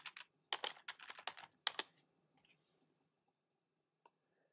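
Quick bursts of typing on a computer keyboard while entering a search on a Mac, crisp close key clicks in two flurries, then a few scattered taps and near silence.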